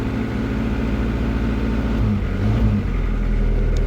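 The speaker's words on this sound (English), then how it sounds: "Just give it a little rev in here" A Daihatsu Fourtrak's engine runs close by with a steady droning hum, its pitch climbing and shifting midway as it is given a small rev before settling again; no one speaks.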